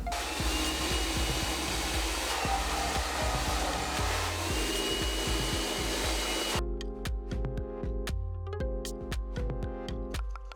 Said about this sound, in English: when I was blow drying this section